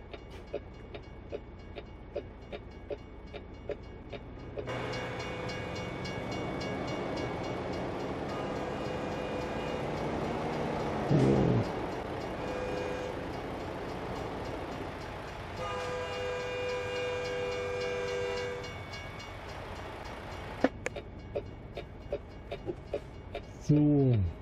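A train passes in the American Truck Simulator video game, its horn sounding in long steady blasts while the rolling rumble builds and fades, moderately loud and alone without talk.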